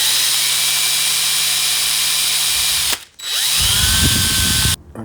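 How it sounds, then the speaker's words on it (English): A power drill whines loudly and steadily while drilling a pilot hole in a vintage Moto Guzzi LeMans MK1 motorcycle, cuts out briefly, then spins up again before stopping near the end. "first part of the extraction is to drill the pilot hole"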